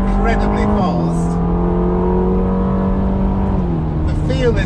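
Ferrari Roma engine pulling under way, a loud steady drone that steps down in pitch twice as it shifts, ending in a brief rise.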